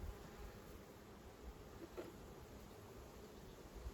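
Honey bees humming steadily around hives at an apiary, a soft continuous buzz at low level with faint background hiss, no talking.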